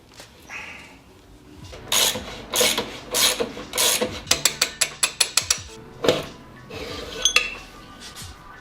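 A hand tool works the axle pinch bolt on a Yamaha Stratoliner bagger motorcycle, giving a run of sharp metallic ratcheting clicks and clinks in quick bursts, close and fairly loud, with no talking.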